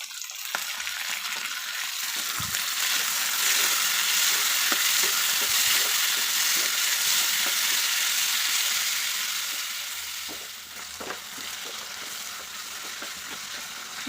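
Steady, close sizzling of chopped tomatoes sautéing in a hot frying pan, a continuous hiss broken by occasional light stirring clicks and scrapes, with no talking.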